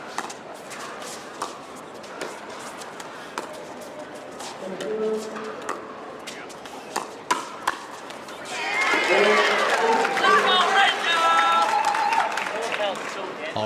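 Crowd at a pro pickleball match in Milwaukee, paddles popping through the rally and then a swell of cheering and applause near the end, with a commentator talking over it.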